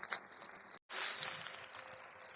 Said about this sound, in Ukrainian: Смажимо наступну партію.